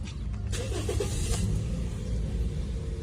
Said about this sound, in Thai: เราจะลองสตาร์ทด้วยตัวใหม่เลยนะครับ